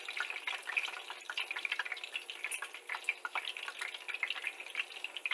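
Stuffed milkfish relleno fries in hot oil with a steady crackling sizzle, close and continuous, full of dense irregular pops and no voices.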